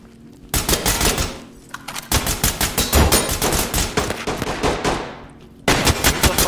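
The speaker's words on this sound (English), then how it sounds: "Who the fuck is shooting?" Loud, close automatic gunfire in the tactical SWAT shooter Ready Or Not, fast rhythmic bursts of shots with a brief pause, then a longer sustained stream and a final burst.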